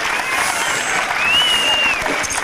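Crowd at a 1994 outdoor carnival in New Addington applauds the London Fire Brigade parachute team, a steady, loud wash of clapping from many people lasting the whole moment, with a faint whistle over it.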